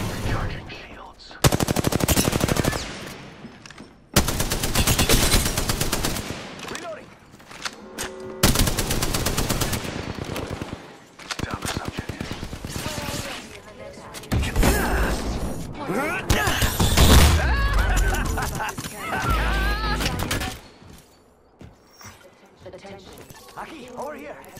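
Machine-gun fire and single shots in Apex Legends crackle in loud, broken bursts separated by short pauses, with in-game voices calling out between and over the shooting.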